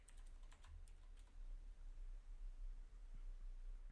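Quiet, close typing on a computer keyboard: a quick run of light key clicks, then softer scattered taps over low background noise.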